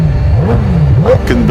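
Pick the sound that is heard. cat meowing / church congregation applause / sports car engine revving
sports car engine revving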